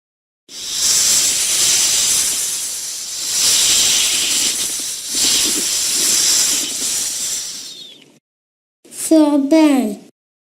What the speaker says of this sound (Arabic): ثعبان